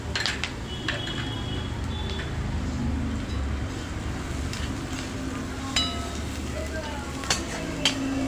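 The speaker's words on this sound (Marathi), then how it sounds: "कांदा असा परतून घ्यायचा आहे" Onion sautés in a pan before peanuts go in, with a low steady sizzle, occasional utensil clinks and scrapes, and someone talking throughout.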